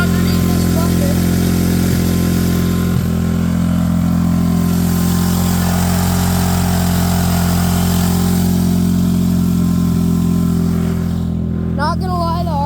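Old Briggs small engine running under an overturned bucket, a loud steady droning hum close by with little change in pitch throughout, a brief knock near the start and a faint voice at the very end.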